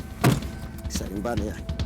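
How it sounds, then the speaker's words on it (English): A car door slams shut with a sharp, loud thunk, followed by a brief rattle as a rescue team bundles a suspected puppy seller into the vehicle, with a voice speaking over the scene. "Close the door."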